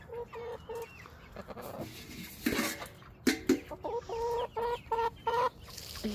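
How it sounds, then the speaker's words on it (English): Backyard hens cluck in short, repeated bursts close by, several overlapping calls rising and falling with brief pauses and a couple of sharper squawks in between. "Morning chickens."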